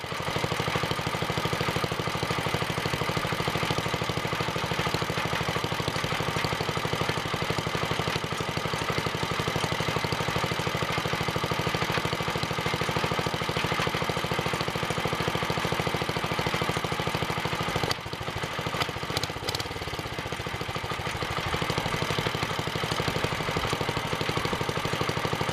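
A Wheel Horse 704 garden tractor with a Kohler engine and a freshly repaired bearing plate idles steadily and continuously at close range, with a brief dip and shift in tone near the end while the idle mixture is adjusted.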